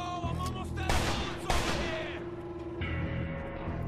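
Sharp bursts of gunfire in the video game Mafia II crack out in quick succession, a few loud shots and then scattered quieter fire.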